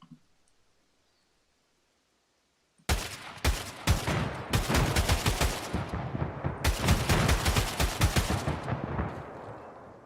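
Automatic gunfire in Escape from Tarkov, bursting in after near silence as loud, close rapid volleys of shots that continue almost unbroken to the end, with no talking.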